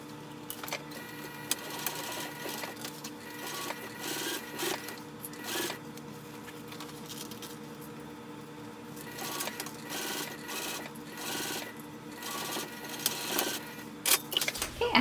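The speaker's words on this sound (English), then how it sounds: "I'm going to sew this with the seam allowance given in the pattern from one side to the other" A sewing machine runs steadily, stitching wristlet lining and zipper tape with back stitches at the start and stop; the close, even motor whir and needle clatter carry on alone, with small bursts near the end.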